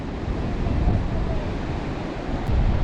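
Sea waves at Mandarmani beach, a loud continuous wash of surf mixed with wind buffeting the microphone, swelling slightly toward the end.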